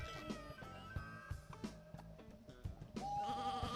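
Sheep bleat in the video game Sheep Raider, a few short wavering calls over a busy game soundtrack with thumping beats, one longer bleat near the end, all fairly quiet.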